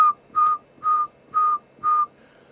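A person whistles a steady tone into a microphone during an on-air audio test of a Kenwood TL922A amplifier: five short, evenly spaced, close whistled blasts of the same pitch against a quiet background.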